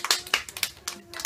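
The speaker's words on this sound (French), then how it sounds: "On applaudit Paloma." Scattered hand claps from a small audience applauding a performer named Paloma at a Printemps des Poètes rehearsal: a few sharp, uneven claps spread over about a second, fairly close, with no voices.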